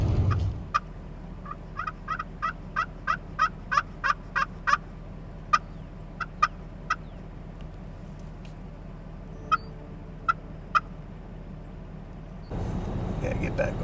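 Wild turkeys gobble on public land in New York during a hunt, a long run of sharp, rapid calls, some louder and others fainter and farther off, fading out before a brief rustling burst at the end.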